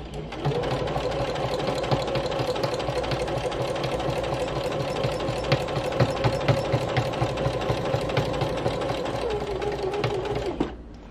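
A sewing machine stitches a fabric postcard in a continuous, rapid mechanical whir with a fine ticking pulse. It runs close and steady for about ten seconds, then stops abruptly.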